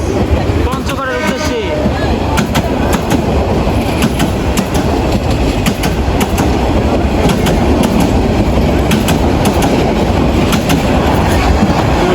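Inside the moving Dolon Chapa Express, a loud, steady rumble of rolling wheels carries a rhythmic clickety-clack over the rails, with faint voices in the carriage.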